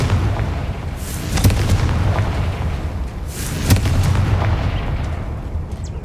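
A Confringo blasting spell explodes in Hogwarts Legacy, giving two heavy booming blasts a couple of seconds apart over a dense, rumbling battle din.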